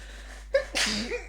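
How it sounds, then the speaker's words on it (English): A single close sneeze: a short sharp intake followed by a forceful burst, alone in a quiet room. "Gonna sneeze, sorry."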